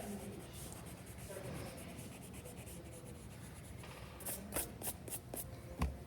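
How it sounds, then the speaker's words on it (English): A pencil drawing of a face on paper is erased in soft, faint rubbing strokes, ending in a few quick, slightly louder scrubbing bursts. "And then I'm going to erase inside of it."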